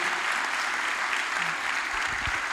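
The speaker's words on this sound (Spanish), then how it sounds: "un aplauso grande" Big applause from a crowd at a provincial political militancy meeting in Santa Cruz, Argentina, dense steady clapping throughout with a few low thumps near the end.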